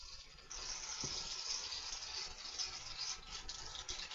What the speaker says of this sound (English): I'm going to turn on some water here.